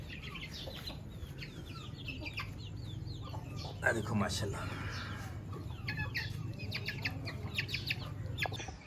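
Hens cluck and call repeatedly on a rooftop, with several birds making short, close clucks over a low steady hum and someone speaking briefly.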